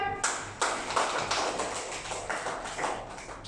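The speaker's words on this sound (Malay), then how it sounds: "Wahyu, beri tepukan." Applause from a classroom of children during a lesson on the revelation at Gua Hira, with bursts of clapping rising and repeating over several seconds, fairly close.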